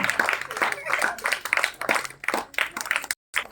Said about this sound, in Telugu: క్లాప్స్ క్లాప్స్ గట్టిగా.